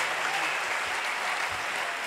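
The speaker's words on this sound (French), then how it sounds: "Clap for the Lord." A church congregation claps loudly and densely in continuous praise, with sustained crowd applause and no distinct individual claps.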